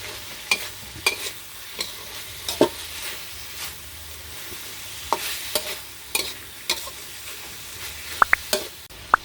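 Spicy chicken with chili stir-fried in a pan, a steady sizzle broken by repeated scrapes and clacks of the utensil against the metal, close and fairly loud with no talk.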